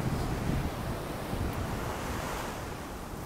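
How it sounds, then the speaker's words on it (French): Sea waves wash onto the shore in a steady, loud rush of surf, with wind buffeting the microphone throughout and no talking. "en fond sonore, l'adoration des vagues."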